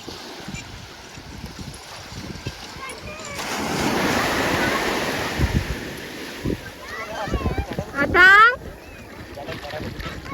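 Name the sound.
sea waves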